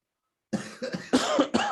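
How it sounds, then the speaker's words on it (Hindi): After a short silence a man coughs several times in quick succession, close and clear, each cough a harsh, throaty burst, set off by fumes from vegetables cooking. "इसीलिए थोड़ा खांसी आ रहा है"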